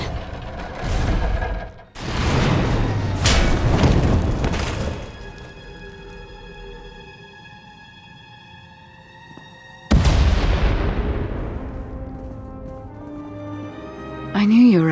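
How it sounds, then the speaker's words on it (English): Explosions rumble in Star Wars: The Old Republic, several heavy booms and crashes early on, then a lingering tonal hum, another loud blast near the end, with voices speaking. "We heard explosions. The tunnel collapsed."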